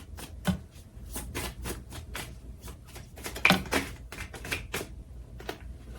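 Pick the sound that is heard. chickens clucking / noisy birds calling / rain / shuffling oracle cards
shuffling oracle cards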